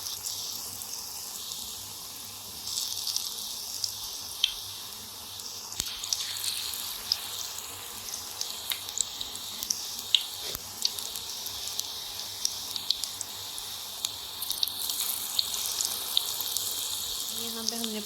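Pakoras sizzling in hot oil, a steady bubbling hiss scattered with small crackles and pops that continues without a break and stays moderately loud.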